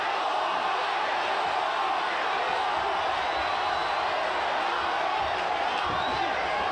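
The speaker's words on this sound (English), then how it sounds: "Mixed emotions from this capacity crowd" Capacity crowd at the Ryan Garcia vs Oscar Duarte boxing fight, a steady dense roar of voices and murmur filling the arena throughout, with no single cheer standing out.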